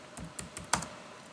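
Typing on a computer keyboard while entering a primary key for an SQL table: four crisp, close key clicks in an uneven rhythm against a quiet room, with no voices.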